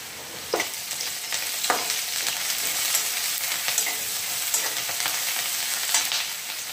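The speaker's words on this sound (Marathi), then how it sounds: "त्याच्यात मोहरी देते टाकून, जिरा पण टाकते." Mustard seeds and cumin frying in hot oil, a continuous bright crackling sizzle with a few sharp pops and stirring scrapes, close and fairly loud with no talking.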